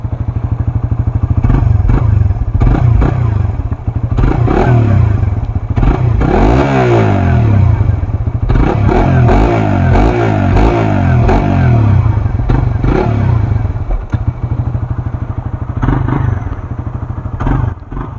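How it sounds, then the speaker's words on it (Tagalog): Stock exhaust of a Suzuki GSX-S150 motorcycle revving loudly and close, with repeated rising and falling throttle blips over a steady idle, running continuously with no talk. "So ito ang tunog ng stock exhaust ng GSX-S 150."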